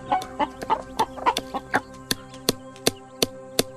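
Several chickens cluck in a series of short, close calls, irregular at first and then more evenly spaced, with no talk over them.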